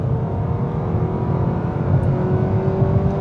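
A 2026 Nissan Sentra with a CVT accelerates under hard throttle, its engine holding a steady droning whir that builds slightly in loudness, close and continuous with no talking.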